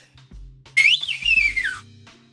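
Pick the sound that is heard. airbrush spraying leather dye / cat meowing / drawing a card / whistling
whistling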